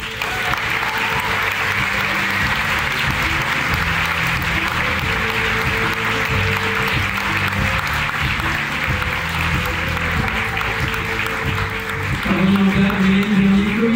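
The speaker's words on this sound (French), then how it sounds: "Et vous pouvez de nouveau les applaudir." A large festival audience at the Gérardmer fantastic film festival opening ceremony applauds the jury with steady, dense clapping that holds for the whole stretch, a low hum underneath and a swell near the end.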